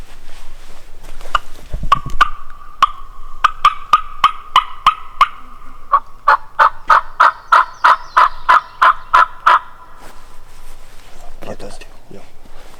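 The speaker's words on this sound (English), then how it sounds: "Two just gobble." Wild Eastern turkey gobblers answering a call outdoors, rattling gobbles mixed with a steady series of sharp clucking yelps, loud and fairly close, with brief voices near the start and end.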